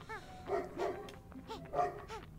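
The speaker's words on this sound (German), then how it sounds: "Kannst du mal aufhören, montags 18 bis 20 Uhr zu bellen da draußen?" A dog barks repeatedly outside, several sharp yips and barks in quick bursts, somewhat distant and moderately faint, with no talking over them.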